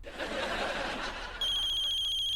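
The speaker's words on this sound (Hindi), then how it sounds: "फोन बज रहा है मेरा" A mobile phone rings in a domestic comedy scene, a steady electronic ringtone cutting in partway through and continuing loudly over a noisy, murmuring room background.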